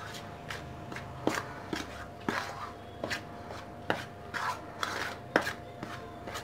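A spoon works through khari jeera shankarpali dough mixed with oil in a bowl, giving sharp, irregular clicks and scrapes against the bowl at close range, with no one talking.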